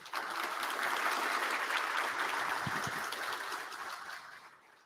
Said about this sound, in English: So let's give a round of applause for Craig and Pete.